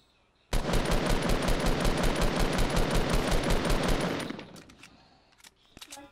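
Sustained rapid automatic gunfire in a PvP video game rattles loudly for about three and a half seconds, then tapers off into a few scattered, quieter shots.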